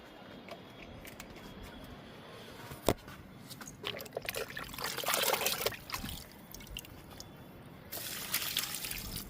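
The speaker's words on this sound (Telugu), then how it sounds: "ఈ మొక్కకి లిక్విడ్ ఇద్దాము" Liquid fertilizer trickles and splashes onto a large lemon plant growing in a drum of soil, a steady close pour that swells louder in bursts, with faint background noise.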